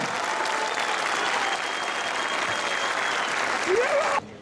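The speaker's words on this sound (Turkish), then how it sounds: "o imama Bilecik'ten koca bir alkış gönderin" A large crowd at an outdoor political rally in Bilecik, Turkey, bursts into dense, sustained applause that holds at an even loudness for about four seconds before cutting off abruptly.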